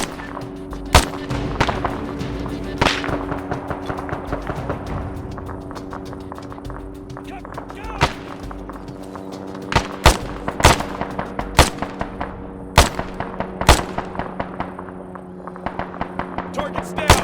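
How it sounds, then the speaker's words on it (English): Gunfire in the military shooter game ArmA 3, with sharp isolated shots and short bursts cracking out at irregular intervals over a steady low engine-like drone and background battle noise. "Kerry, fire at that soldier."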